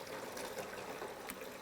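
Bath taps run after the water mains are turned back on, water and trapped air pushing out of the pipe in a continuous gushing flow with small sputtering bursts, close by.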